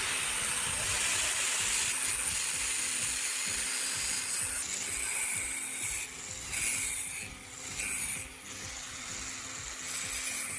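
A wooden support piece is cut for a drill bit sharpening jig, giving a steady, close, hissing rasp of the cut that runs almost without break, with a few short dips near the end and no talk.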